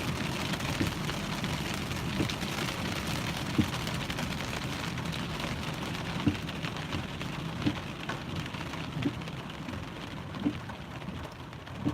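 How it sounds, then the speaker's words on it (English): Steady rain falling and pattering on surfaces, a continuous hiss with scattered sharper drops ticking through it, moderately close and unbroken for the whole stretch with no voices. "Is that why it's raining?"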